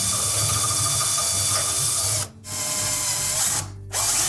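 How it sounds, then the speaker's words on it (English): A power drill with a 1/8 inch bit drills out rivets on a Samsung dryer, whining loudly and steadily, cutting out briefly twice as the trigger is released and squeezed again. "we will need to drill out those rivets to remove the old one"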